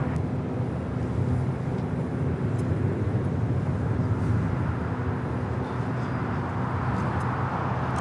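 An airliner rolls on the runway at LAX, a steady, broad roar of engine and jet noise that holds loud and even throughout with no break.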